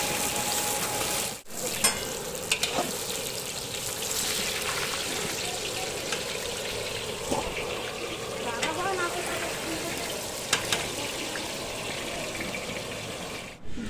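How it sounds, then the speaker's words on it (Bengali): Whole garam masala, cumin seeds and bay leaves hit hot oil for a mutton curry tempering, giving a steady, continuous sizzle and crackle with occasional spoon clinks, close and moderately loud. "দিয়ে দিচ্ছি গোটা গরম মশলা, জিরে, তেজপাতা, ফোড়ন।"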